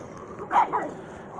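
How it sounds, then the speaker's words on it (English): A dog gives a single short bark followed by a softer yip, close and fairly loud against quiet background. "This damn dog gotta start his bullshit."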